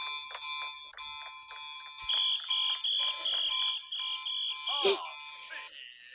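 Alarm blaring in a video game, with steady harmonic tones broken into repeated pulses and a talking voice overlapping at moments.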